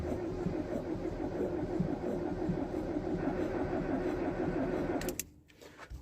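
A Wartburg 1.3S engine cranks over under the starter, a steady churning drone for about five seconds that stops abruptly, followed by a few faint clicks.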